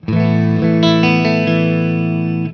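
A sustained chord on a Whitfield Telecaster through a clean amp channel rings out clean and full, with a few strummed changes layered over it.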